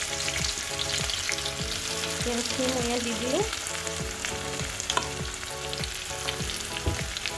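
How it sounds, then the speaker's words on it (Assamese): Chopped onions hit a hot kadai and fry with a loud, steady sizzle and crackle, close by. A short rising whistle-like tone sounds partway through, and a voice speaks briefly. "এতিয়া কেৰাহীখন গৰম হৈ গৈছে। মই ইয়াত এতিয়া দি দিম ইয়াত পিঁয়াজখিনি"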